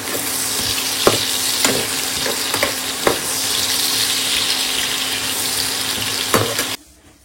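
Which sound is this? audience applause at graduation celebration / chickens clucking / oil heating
oil heating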